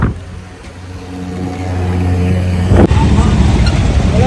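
An electric car driving along, its smooth low hum building steadily and close by, with a sharp bump or knock near the end and louder road and wind noise afterwards.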